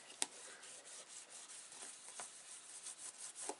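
Paper is rubbed down by hand onto a mini album page, a faint, continuous dry brushing with soft scuffing strokes and a small tap near the start, quiet and close.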